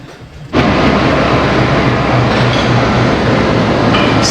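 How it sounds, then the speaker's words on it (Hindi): A diesel locomotive pulls in to haul the 42 Down Karakoram Express from Lahore to Karachi, starting abruptly after a quiet moment into a loud, steady low engine rumble with rhythmic throbbing and a broad roar that holds close throughout. "अब लोकोमोटिव जिसने लाहौर से कराची तक 42 डाउन कराकरम एक्सप्रेस की रहनुमाई करनी है वो पहुंच"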